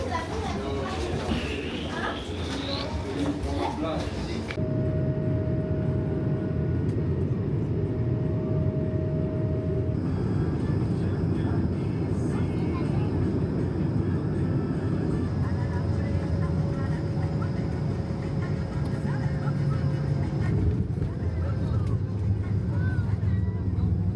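An airliner departing Réunion for Nosy Be gives a loud, steady roar of engines and cabin rumble heard from inside. The roar runs throughout, with a shift in tone partway through, and voices talk over it.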